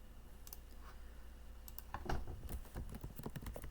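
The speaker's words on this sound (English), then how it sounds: "I went to Google Earth, and I just kind of typed in" Keys clicking on a computer keyboard, soft scattered taps at first, then a quicker, denser run of typing close by with no voices.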